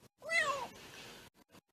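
A kitten gives one clear, high, drawn-out meow, then a few short quieter squeaks follow with small gaps between them.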